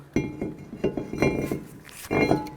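A brake rotor slides onto the front hub of a 2004-08 Nissan Maxima, its hub thinly coated with anti-seize, giving a series of close, bright metallic clinks and clanks spaced irregularly over a couple of seconds.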